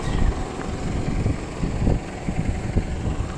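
A Valtra N-series tractor pulls a Kuhn GA 8521 rotary hay rake across a field of silage and dry hay, giving a steady low engine drone with rattling mechanical clatter and wind noise mixed in.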